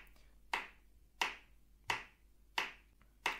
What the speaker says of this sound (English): it is better to have some clapping instead of the nasty metronome cold sound